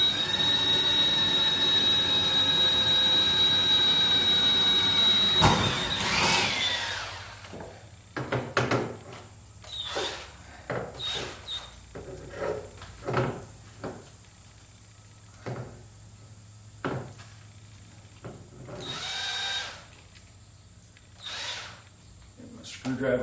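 A power drill boring a pilot hole in a 1976 Corvette: a loud, steady high whine for about five seconds, then stops, followed by quieter scattered clicks, knocks and handling sounds as work continues.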